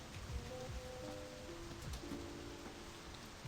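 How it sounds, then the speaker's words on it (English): Steady rain falls in the video game My Summer Car, a continuous even hiss of drops on surfaces with low rumbling underneath, filling the short moment without speech. "Oh, it makes it difficult to drive in that rain."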